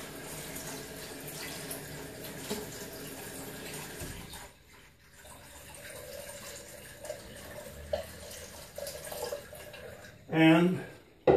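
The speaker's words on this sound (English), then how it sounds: "And I'm just going to put the water in the tank." A gallon of water is poured into a toilet tank after the flapper valve has closed, splashing and running steadily near the end while someone talks over the earlier part.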